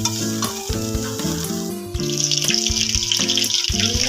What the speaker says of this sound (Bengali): দিয়ে একটু হালকা গ্যাসে মিক্স করে নেবো